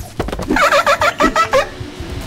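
A gobbling bird call in Fortnite: a rapid burst of about eight warbling gobbles in quick succession, loud and close, with no talking over it.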